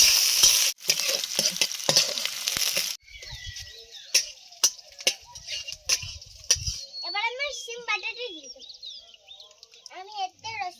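Whole cumin, black cumin and chilli hit hot oil with a loud, dense sizzle for about three seconds. After that, quieter crackling and spatula taps continue while birds chirp and a voice sounds in the background.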